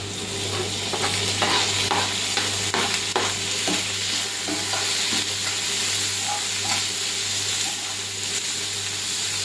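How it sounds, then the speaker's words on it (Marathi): Finely chopped tomato fries with ginger garlic paste for pav bhaji, a loud continuous sizzle close up with a series of spoon stirs and scrapes against the pan over a steady low hum. "यामध्ये आपण बारीक कट केलेला टोमॅटो घालून घेऊया"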